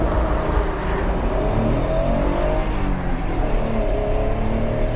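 A car on the COTA Formula 1 circuit during a track-day hot session accelerates hard, its engine note loud and steady with smooth rising revs, heard close from inside or on the car.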